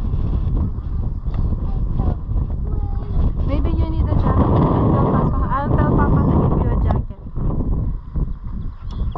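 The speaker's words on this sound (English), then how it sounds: "it's so windy." Gusty wind at Grenen, Denmark's northernmost point where two seas meet, buffets the microphone with a constant low roar, while voices talk over it close by.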